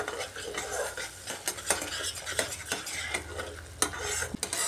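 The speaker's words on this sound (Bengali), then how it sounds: "এইভাবে গ্যাসের আঁচটা মিডিয়ামে রেখে মশলাটাকে আমি কষিয়ে নিচ্ছি।" Spice masala of cumin powder, red chilli powder and salt being stir-fried in a pan over medium gas flame: rapid scraping and clattering strokes of a spatula against metal over a soft sizzle, loud and close, with no speech.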